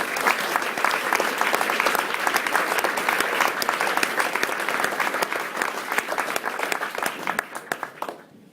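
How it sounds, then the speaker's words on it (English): An audience at an evening school dinner gives a round of applause for the catering staff. The clapping is loud, dense and sustained, then thins into scattered claps and stops near the end. "Can we all please give them a round of applause for all their efforts?"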